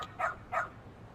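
A dog in a video game gives two short, quick barks, fairly faint, spaced about a third of a second apart over quiet background.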